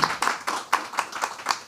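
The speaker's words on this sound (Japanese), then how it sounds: "ちょっとじゃあ拍手" A small audience claps at a panel event, about seven distinct, evenly spaced hand claps close by over a short burst, with no other sound.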